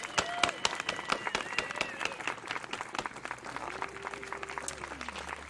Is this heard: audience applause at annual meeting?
yes